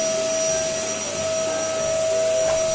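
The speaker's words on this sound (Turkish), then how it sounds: "alıyor mu bu gerçek süpürge anneciğim?" A real electric vacuum cleaner runs while a child sweeps the floor at home, a loud, steady close whine with a constant high tone throughout.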